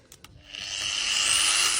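An angle grinder with a soft-start feature spins up, beginning with a couple of faint clicks and then a whine that climbs gradually and evenly to a steady high-pitched whir.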